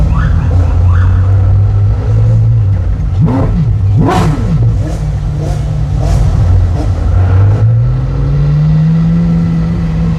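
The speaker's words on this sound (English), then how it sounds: "Whoop whoop, that's the sound of the police." A loud engine drones close by in a Miami hypercar drive while short rising and falling police siren whoops sound repeatedly over it, with faint voices underneath.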